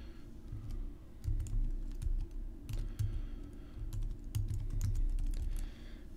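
Keys clack on a computer keyboard as an address is entered, in quick irregular bursts of close, faint taps over a quiet room hum.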